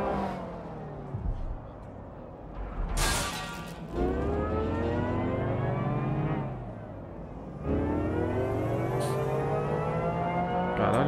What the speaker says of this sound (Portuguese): é o somzinho do carro